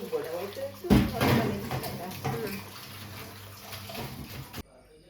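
Water is poured into thick coconut chutney in a Mangalore village-style kitchen, a short gushing pour and sloshing that rises sharply and then trails off.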